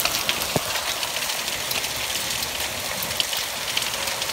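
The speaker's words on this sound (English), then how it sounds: "this is a small hail, but this is a major hailstorm, even though it's small hail, pea-sized hail" Pea-sized hail pours down in a heavy nighttime hailstorm, a dense, steady hiss and patter with occasional sharper impacts, continuous and close.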